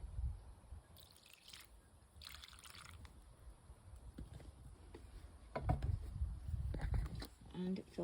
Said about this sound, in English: And then I just take the alcohol and pour it right in there.